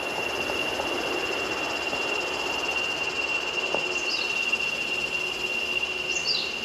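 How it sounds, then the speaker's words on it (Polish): Costa Rican jungle ambience with a dense, continuous insect drone and high steady buzzing, a couple of faint bird calls surfacing briefly, no talking. "Chciałam Wam pokazać dźwięki dżungli."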